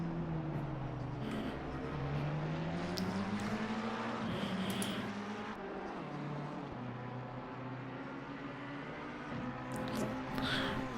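Ferrari and McLaren race cars at Circuit of the Americas, engines droning loud and steady with pitch rising and falling through gear changes, running side by side for the whole stretch.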